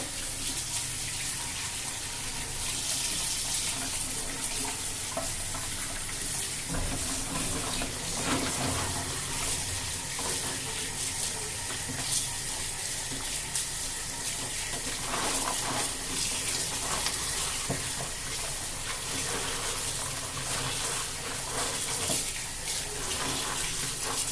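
Boiled chickpeas are rinsed under a running kitchen tap, a steady close gush of water that splashes continuously throughout with small shifts as the chickpeas are stirred and handled.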